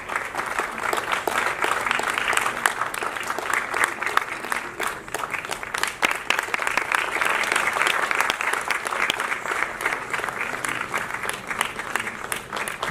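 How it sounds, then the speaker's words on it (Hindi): Sustained applause from an audience at an award ceremony honouring Poonam Dhillon, dense steady clapping filling the whole stretch, loud and continuous with a faint crowd murmur underneath. "पूनम जी के लिए तालियां आपकी थोड़ी बड़ी।"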